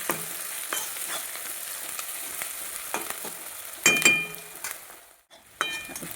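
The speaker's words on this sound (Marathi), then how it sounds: "याच्यामध्ये कांदा, टोमॅटो आणि मिरची टाकून, कोथिंबीर टाकून आता ही परतून घेणार आहे" Onion, tomato and chilli sizzle steadily in a pan, with periodic scraping and clinks of a spatula stirring, close and alone without voices.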